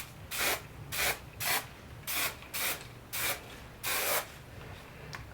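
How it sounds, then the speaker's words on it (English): Hairspray spritzed onto curled hair in seven short separate bursts, each a soft airy hiss, close by with brief pauses between them and no talking. "More just like a little layer, a little kiss of hairspray"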